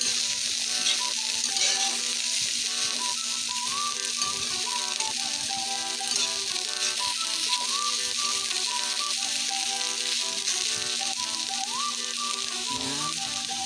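Boiled kangkong sautés with garlic and onion in a pan, a soft steady sizzle running under light rattling and scraping, with faint background music-like tones and no voices.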